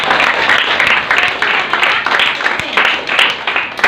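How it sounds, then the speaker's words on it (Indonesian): Steady applause from a group of people clapping together, a continuous dense patter of hand claps that stays loud throughout. "tepuk tangan lagi untuk Najwa."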